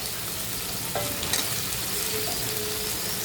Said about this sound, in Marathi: आता आपण घालूया शिमला